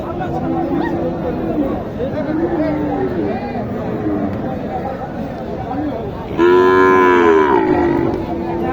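Gir cattle low at a livestock market, several drawn-out moos rising and falling over a steady crowd hubbub, with one loud, close bellow near the end standing out above the background chatter.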